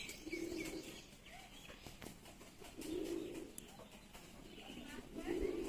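A male pigeon coos in soft, low rolling phrases, three close bouts spaced a few seconds apart over faint background rustle.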